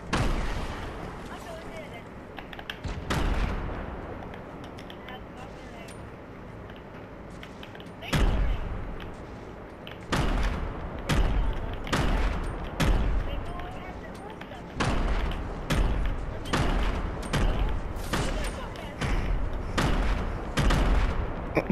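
Grenade explosions go off in a Fortnite horror map, with several sharp, loud, broadband blasts coming in quick clusters, some of them back to back. Excited voices talk between and over the bursts.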